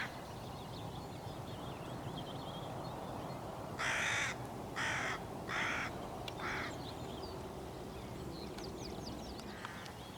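Hooded crows, magpies and rooks call across open gorse country, a short series of about five harsh caws in quick succession over a steady low background hum, then a fainter call near the end.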